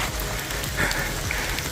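Rain falling steadily on a mountain hiking trail up Gunung Manglayang, a dense continuous hiss of drops close by with no voices, heard alone throughout.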